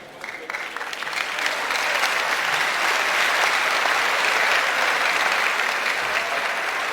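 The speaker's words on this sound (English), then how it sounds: "now keep clapping" Fresh students clapping at a university orientation programme, a large crowd's applause building quickly and holding loud and steady throughout.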